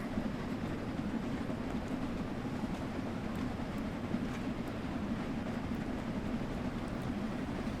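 Steady rumble of a train in Train Sim World 2 gathering speed as the regulator is opened fully, a dense continuous low roar with faint rail clatter, even and unbroken throughout.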